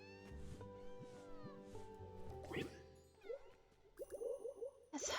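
A pet cat meows in the cozy video game Cozy Grove, with several short game meows and chimes over gentle background music, moderately loud and with no talking.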